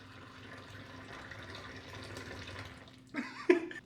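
Great Value room-temperature water pours briefly into a shaker bottle near the end, a short splashing fill after a stretch of low background noise.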